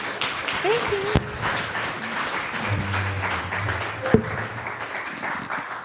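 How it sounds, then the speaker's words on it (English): An audience at a design talk applauds the presenters, a crowd clapping under a speaking voice with a couple of sharp knocks, moderately loud throughout. "let's give Veronica and Lana a round of applause"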